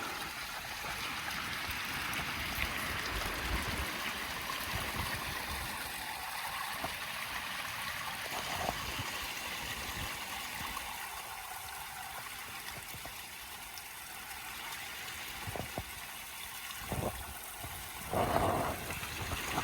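Water runs steadily through a gold sluice in a river, a continuous rushing trickle with occasional knocks and clunks as the sluice is readjusted, no talking.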